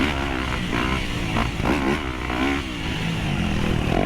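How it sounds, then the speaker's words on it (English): Loud, close stock Yamaha YZ250F dirt bike engine racing on track, its raspy four-stroke note rising and falling continuously with throttle changes. "The stock YZ250F is god-awful loud"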